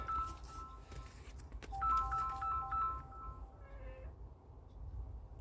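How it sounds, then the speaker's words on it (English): A telephone rings with a melodic electronic tone that steps through a few notes in repeated bursts, moderately quiet over a steady low hum at a home electronics bench. "Oh, the phone's ringing."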